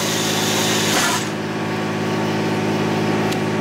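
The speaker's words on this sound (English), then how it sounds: "drill through my new floor plate." A power drill bores through a gooseneck trailer's new steel floor plate, a loud continuous whine and grinding with a brief surge partway through, close by and without speech.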